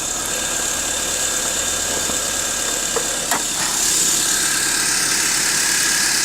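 A clean Ford StreetKa 1.6 Duratec petrol engine, likely cam-chain driven, idles steadily with the bonnet open, a close, even mechanical hum with light ticking and a couple of brief clicks partway through.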